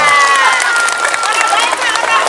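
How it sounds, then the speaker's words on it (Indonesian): A large outdoor crowd at a public gathering in Dadap, Indramayu, applauds and cheers in a dense, loud, continuous wash, with voices calling out over the clapping. "Tepuk tangan ya."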